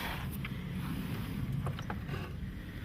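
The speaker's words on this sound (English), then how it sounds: "I'm going to take the socket wrench like I did before" A socket wrench tightens a car battery terminal on a 2012 Kia Soul, giving off a few faint, quick ratcheting clicks and creaks close by.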